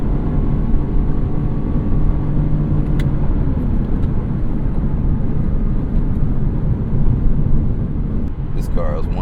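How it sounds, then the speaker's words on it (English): A Lexus LC 500 convertible with its V8 engine under way, a loud steady rumble with a continuous drone holding throughout, a brief voice or noise near the end. "All you hear is that V8 singing."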